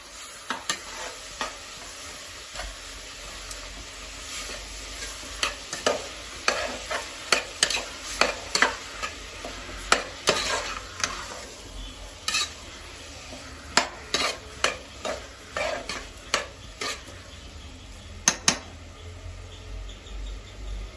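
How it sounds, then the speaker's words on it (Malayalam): A tomato, ginger and green chilli paste being stirred in a pan for a homestyle mutton curry, with repeated sharp scrapes and taps of a spoon against metal over a low, steady sizzle, close and without voices. "തക്കാളി ഇഞ്ചി പച്ചമുളക് പേസ്റ്റ് പച്ചമുളക് ഇട്ട് നല്ലതുപോലെ ഇളക്കാം"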